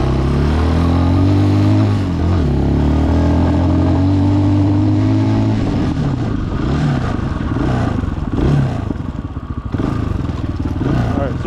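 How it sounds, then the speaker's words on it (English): A Chinese dual sport motorcycle engine revs loudly and close, holding a steady droning idle before rising into rougher, fluctuating revs with clattering mechanical noise in the second half. "So I may have been revving her a little too much"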